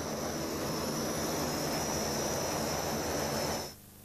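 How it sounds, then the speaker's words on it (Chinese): An SH-5 seaplane at a naval aviation seaplane base, preparing to fly, with a loud, steady engine roar holding for several seconds. It cuts off abruptly near the end. "我身后这架正在准备飞行的飞机呢，就是我国自行设计制造的水轰5水上飞机"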